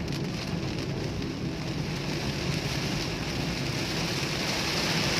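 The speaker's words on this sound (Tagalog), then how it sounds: "grabe ulan ah" Heavy rain pours steadily onto a highway in Cagayan de Oro City, a dense, loud, continuous hiss and patter with a low rumble underneath and no voices.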